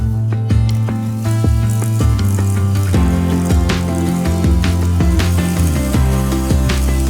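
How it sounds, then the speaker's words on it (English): An electric mixer creams softened butter and sugar for a lemon and blackberry drizzle cake, a loud steady whirr with rhythmic scraping and clicking of the beaters against the bowl. "we're going to cream this together until it goes light and fluffy. So you need your electric mixer for this."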